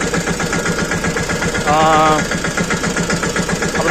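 A tractor engine runs close and steady, with a continuous rough drone and rhythmic pulsing throughout, and a brief higher tonal sound rising over it midway.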